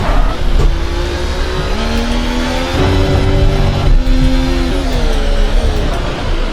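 Racing car engine in a motorsport career-mode video game, loud continuous high-pitched revving that climbs and drops with gear changes, close and dominant throughout.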